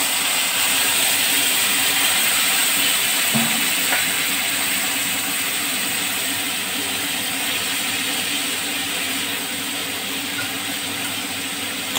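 A soaked paste of cumin, ginger and turmeric sizzles in a hot pan, giving a loud, steady broadband hiss that keeps going the whole time with little change.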